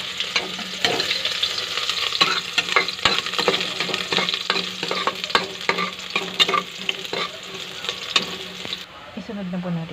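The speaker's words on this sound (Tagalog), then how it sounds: "Lagyan na po natin ng konting mantika. Parang ngayon, igisa na po natin ang ating bawang." Garlic sautéing in a little oil, a steady close sizzle with frequent spatula scrapes and stirring taps throughout, cutting off near the end.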